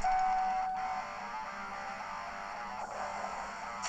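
A steady electronic beep sounds in the Big Bass Arcade fishing video game on a Nintendo 3DS, a thin continuous tone over a soft game backdrop with no talking.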